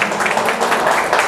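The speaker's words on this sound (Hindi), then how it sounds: "ज़ोरदार तालियां इनके लिए भी।" Loud applause from an audience at a gym appreciation event, a steady dense crackle of clapping lasting about a second without a pause.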